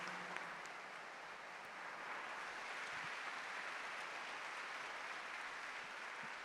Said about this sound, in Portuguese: Aplaudamos o Santo Evangelho.